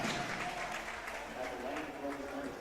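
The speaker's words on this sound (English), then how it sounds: "Joseph fouls out and gets a nice applaud from the Hobbs crowd" The Hobbs home crowd applauds at a girls basketball game against Clovis, a steady wash of clapping from many hands that fills the gym throughout.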